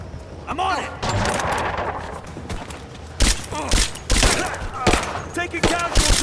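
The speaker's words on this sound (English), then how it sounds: "Open fire!" Video game gunfire in Rise of the Tomb Raider: dense, loud bursts of automatic weapon fire and single shots overlapping in a chaotic firefight, with shouted voices of characters mixed in.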